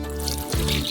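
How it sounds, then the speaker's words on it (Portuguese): Water poured into a pan holding sugar and corn syrup for caramel, a brief close splash and gurgle of liquid lasting about a second, with no talking. "Em uma panela colocamos açúcar, xarope de milho e água."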